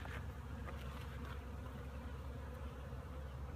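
Honey bees buzz steadily around their queen while a package is being installed in a hive, a dense, continuous insect drone held close for the whole stretch with no voices.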